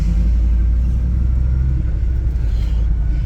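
A car with a 460 EFI 532 stroker engine and roller cam drives along, giving a loud, steady low rumble that holds constant without clear revving.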